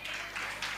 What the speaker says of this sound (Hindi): ताली बजाए भाई के लिए।